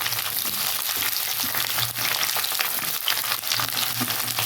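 Banana stem and papaya frying together in oil for shukto, a dense, continuous sizzle with faint stirring, close and steady throughout with no talk.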